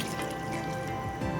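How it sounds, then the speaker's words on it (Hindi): Water poured into a pot of mutton nihari during cooking, a steady liquid splashing and trickling that runs close and fairly loud for a moment, with no talking over it. "अब इसके अंदर हम 6 गिलास पानी के ऐड करेंगे।"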